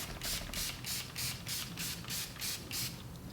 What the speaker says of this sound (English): So it's a very good setting spray.